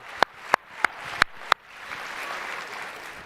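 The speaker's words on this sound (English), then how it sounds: "Round of applause for an amazing job" Five sharp, loud claps ring out at a steady pace, then give way to a broad wash of applause from a crowd at a young women's leadership summit, sustained to the end with no talk over it.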